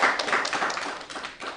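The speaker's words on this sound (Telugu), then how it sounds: "Absolutely big round of applause to sir." An audience claps at a World Radio Day event, a short burst of dense, fairly close applause that fades slightly toward the end.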